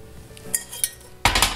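A few light clinks of dishes and a pot of boiling water knocking together nearby while making grain coffee, ending with a louder clattering rattle.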